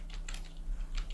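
Keys clack on a computer keyboard while text is typed into a certificate design in MS Word, a few quick bursts of close, light taps with a brief pause between them.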